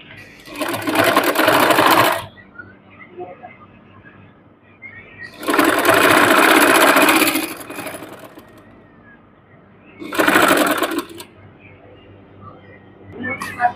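A sewing machine stitches a garment sleeve in three bursts of steady whirring, each about one to two seconds long, with quieter gaps between and faint room noise.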